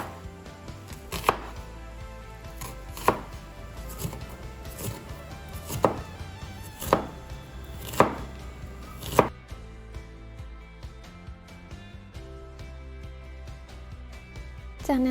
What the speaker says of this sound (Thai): เอาหัวหอมใหญ่ครึ่งลูกมาสับละเอียด